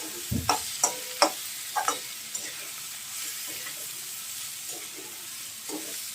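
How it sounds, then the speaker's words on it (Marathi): Vegetables for hakka noodles being stir-fried with black pepper in a pan, a steady soft sizzle broken by a few sharp scraping knocks of a spatula early on, then quieter frying alone. "भाज्या फ्राय झाल्या."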